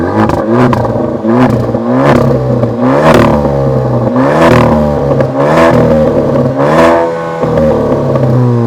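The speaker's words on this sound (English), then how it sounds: "we have the 4 exhausts for this, and this does sound it's good enough, especially for an SUV" A 2023 Maserati Grecale SUV revs hard through its four exhausts, a loud, close sequence of about seven throttle blips, each rising and falling with crackles and rattles between them.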